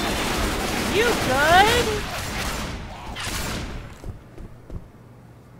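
Gunfire in Left 4 Dead 2 during a multiplayer session: a dense burst of shots and booms in the first few seconds, tapering into scattered, quieter thuds, with people talking over it.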